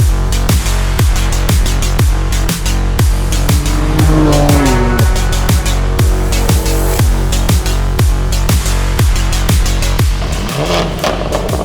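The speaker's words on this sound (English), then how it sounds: "So now let's take these two cars out for a spin and take some rolling shots." Two modified BMW G87 M2 cars with FI exhaust drive past in a loud, continuous engine roar with rising and falling revs and rapid rhythmic exhaust pulses throughout.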